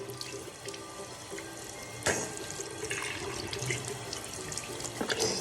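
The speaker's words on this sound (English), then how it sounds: "Rinse and spit." A child rinses their mouth and spits into a running bathroom sink: steady tap water flows throughout, with a sharp splash partway and a few smaller splashes, and no voice.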